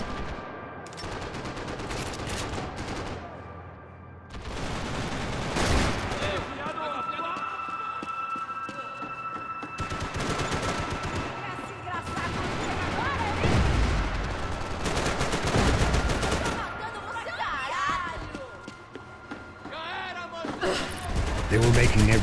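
Gunfire in the video game Max Payne 3, with sharp shots and volleys that come and go over a busy, continuous backdrop of game sound effects.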